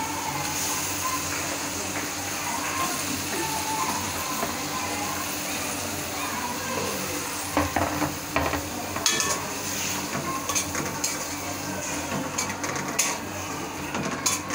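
Potatoes frying and being stirred in a wok with shrimp, a steady sizzle running throughout with scraping and clinking from the utensil against the pan growing busier toward the end.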